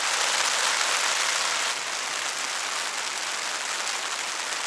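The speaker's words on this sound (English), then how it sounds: "And now it's raining." Steady rain falling at a remote beach campsite on Cape Scott, a dense even hiss that drops slightly in level partway through, with no other sounds.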